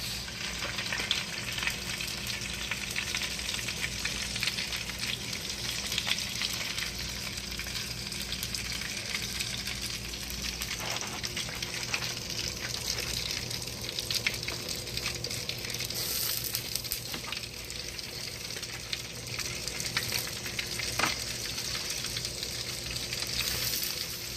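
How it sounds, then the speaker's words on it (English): Meatballs sizzle steadily in spaghetti sauce, a continuous close bubbling and frying hiss with no talk. "Now we just gonna add them on in to the sauce."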